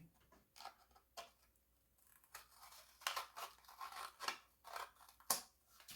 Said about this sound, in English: I'm still cutting.